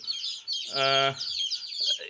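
A cluster of one-week-old chicks of a black-and-white speckled naked-neck breed cheeps in rapid, high overlapping peeps, fairly close and steady, with a brief lower voiced sound in the middle.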